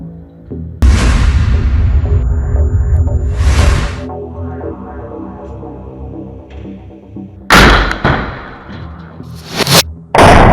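A TBG anti-fortification round explodes in a combat setting, with a loud broadband blast that rumbles for several seconds, followed later by two more sharp, heavy bursts against a humming background.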